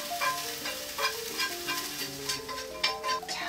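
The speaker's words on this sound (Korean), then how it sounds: "고기를 볶아볼게요" Meat sizzling and crackling as it is stir-fried in a hot pan for Korean tangpyeongchae, stirred steadily, close and moderately loud with no talking.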